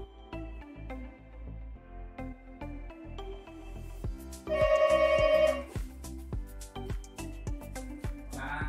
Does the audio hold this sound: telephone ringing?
yes